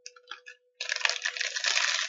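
A candy wrapper is crumpled and rolled up close by: a few soft crinkles, a brief pause, then a dense, continuous crackling rustle.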